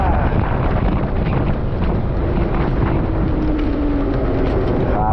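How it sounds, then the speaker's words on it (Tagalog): Strong wind roars and buffets loudly against the microphone, a constant rushing blast with a low rumble underneath. "Mas masarap yung malakas ang hangin."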